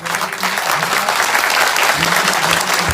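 A rally crowd gives loud, sustained applause, a dense, close wash of clapping with some faint voices mixed in.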